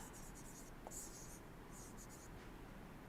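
Pen or chalk writing by hand during a thermodynamics lecture, faint scratchy strokes in short bursts against a quiet room, with no clear talk.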